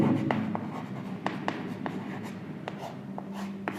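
Chalk or marker writing on a board during a physics lesson, a series of short scratchy taps and strokes at an irregular rhythm, close and fairly quiet over low room hum.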